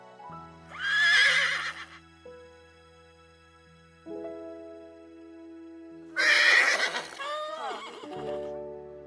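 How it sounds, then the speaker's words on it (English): Horses on a Masurian horseback tour at the Sztynort stud estate let out two loud, close whinnies several seconds apart over steady background music, with hoofbeats faint or absent. "horse riders and guests took part in the first prestigious Masurian horseback tour under the name Sztynort Stud of Count Lehndo"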